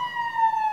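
A vehicle siren sounds in a Tatar comedy sketch: one brief, steady, loud electronic wail held at a single pitch, close by and alone.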